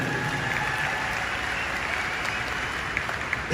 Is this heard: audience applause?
yes